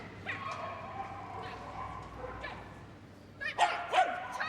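A Shetland sheepdog barks a few short, high yips near the end of a championship agility run at Crufts, fairly distant and over steady arena background noise.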